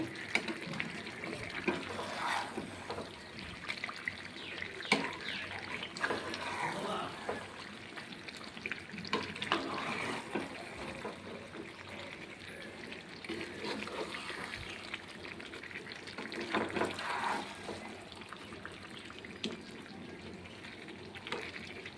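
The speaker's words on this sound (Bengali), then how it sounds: "এবার এর মধ্যে আমি সামান্য একটু জল দিয়ে দিব।" A little water is poured into chicken cooking in a pan, making a faint, uneven splashing trickle with low background noise throughout.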